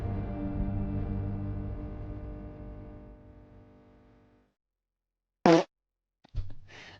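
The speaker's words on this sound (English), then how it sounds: "Just adding a fart sound for no goddamn reason" A fart sound effect dropped in during editing: a sustained tone fades to silence, then a short loud blast of flatulence is followed by a second burst a moment later.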